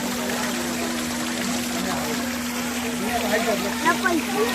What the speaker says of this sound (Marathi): सुंदर असं पाणी वाहते